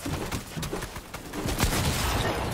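Dense, continuous gunfire in Fortnite during a competitive trio match. Rapid shots run together in a steady barrage for a couple of seconds with no pauses.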